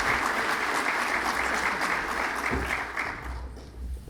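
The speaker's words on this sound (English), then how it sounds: "let's give him a warm round of applause" A crowd at a Texas water planning event applauds warmly to welcome the Comptroller, a dense, even clapping roar that holds steady and then thins and tapers off near the end.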